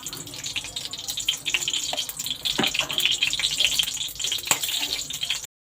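About two spoonfuls of ghee heating in a pan for mango gulamba, a continuous crackling sizzle with light stirring scrapes, close and fairly loud.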